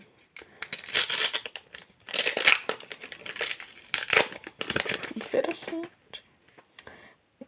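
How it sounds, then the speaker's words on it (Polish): A Pokémon card pack wrapper crinkles and tears open in repeated crackling bursts, close and fairly loud, while a person talks over it. "otwieramy tutaj opakowanie kart Pokémon"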